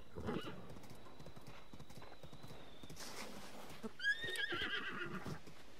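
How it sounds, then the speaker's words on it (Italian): A horse in the Zelda Breath of the Wild video game trots with rhythmic clip-clop hoofbeats, then lets out a sharp, bright whinny near the end, with game sound effects around it and no speech. "Cavallo."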